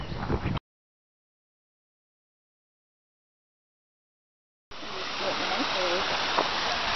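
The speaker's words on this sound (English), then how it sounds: "Nice little creek," A small woodland creek tumbling over little waterfalls on a hiking trail gives a steady broadband rush. It is heard briefly at the start, then after a long silent gap it returns as continuous close water noise.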